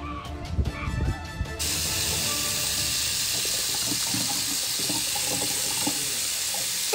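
Water runs steadily from a tap onto a sign to soak it, a constant hissing pour for several seconds after some brief knocks and handling at the start.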